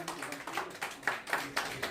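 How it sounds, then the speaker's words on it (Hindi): Audience applause at a live event, a loud, steady wash of clapping in repeated swells under a voice urging the crowd on. "जोरदार ताली होनी चाहिए प्लीज, जोरदार ताली के साथ, जोरदार क्लैपिंग"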